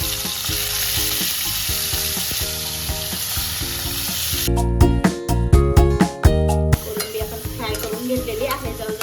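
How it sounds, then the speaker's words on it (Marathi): Prawns frying in oil in a pan, a loud steady sizzle throughout, broken midway by a few seconds of clinking and stirring before the sizzle resumes. "आधी आपल्याला कोलंबी छान असे फ्राय करून घ्यायची आहे।"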